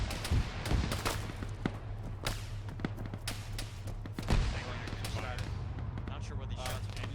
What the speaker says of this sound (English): Not sure what these shots are.